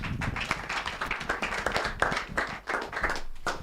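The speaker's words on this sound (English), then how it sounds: "Yes, we'll clap better now." An audience claps at a live Nigerian talk programme's town hall style session, a dense, continuous patter of many hands striking at an irregular rhythm, fairly close, with a brief dip before it picks up again.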